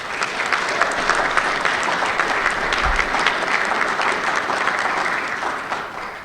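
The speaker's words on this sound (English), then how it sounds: "I would like our silver and bronze sponsors to also please stand and give them applause" A conference audience applauds silver and bronze sponsors at an opening session, steady dense clapping from many hands filling the room without a break.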